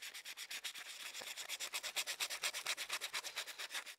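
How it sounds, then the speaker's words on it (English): A metal block is sanded by hand with 220-grit sandpaper, a fast, even back-and-forth rasping of about five strokes per second, close and steady throughout, no talking. "I'm just gonna hit it with some 220 sandpaper."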